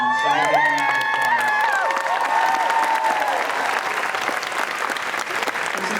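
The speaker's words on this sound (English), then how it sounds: "round of applause" Audience at a D23 Expo animation panel breaks into sustained applause with cheers and whoops, dense clapping filling the hall while excited voices shout over it early on.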